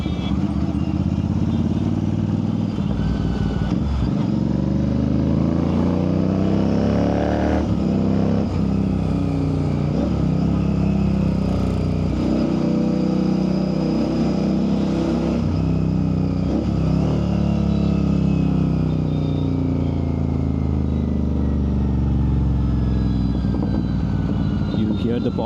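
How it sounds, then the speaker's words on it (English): A motorcycle engine revs repeatedly through a loud custom full-system exhaust, its pitch rising and falling with sharp pops, while a voice talks at times. "Hear the pops, sweet sounding exhaust, boy."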